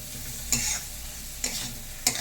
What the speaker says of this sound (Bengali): দেখো এবার আলুটাকে দিয়ে নাড়াচাড়া করি।